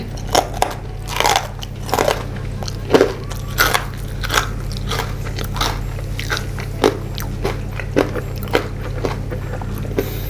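Crispy baked vegetables are bitten and chewed up close in a sharp series of crunches and crackles, repeating at an uneven pace over a steady low background hum.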